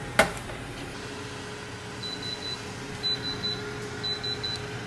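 An air fryer gives a short series of high electronic beeps as a flip reminder, faint over a steady appliance hum, after a single sharp click at the start.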